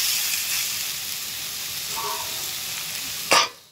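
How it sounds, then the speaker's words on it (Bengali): Snake gourd being stirred and fried in a pan for a Bengali lentil dish, a continuous close sizzle with soft stirring, ending in a sharp clatter of the utensil. "এটা একটু নাড়াচাড়া করে এটা একটু ভেজে নেবো।"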